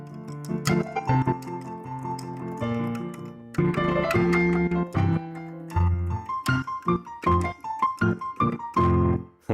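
Melody of Mozart's Queen of the Night aria played by hand on a keyboard instrument, with quick notes, chords and a held high line, moderately quiet and alone.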